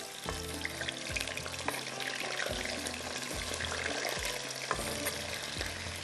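Potato pieces fry in hot cooking oil with a soft continuous sizzle, punctuated by regular low knocks and scrapes of a utensil stirring the pan, heard close and without speech.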